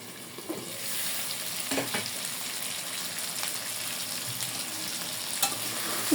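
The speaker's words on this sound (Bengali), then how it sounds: "তেলের সাথে ভাজা ভাজা করে নিচ্ছি।" Goat tripe fries in oil with spices while being stirred, a continuous close sizzle broken by occasional scraping strokes of the spoon, with no voices.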